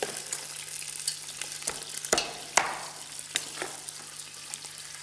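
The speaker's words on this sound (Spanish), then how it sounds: "mientras se nos rehogan las patatas" Potatoes sautéing in a pan in a studio kitchen, a steady hiss and crackle with sharp clacks as they are stirred, heard close up with no talking.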